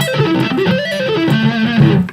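Distorted electric guitar runs through a quick two-octave lick, a fast string of single notes stepping up and down through the range, loud and alone with no talk.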